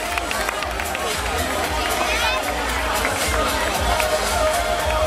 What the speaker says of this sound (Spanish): Fuerte aplauso para Paula.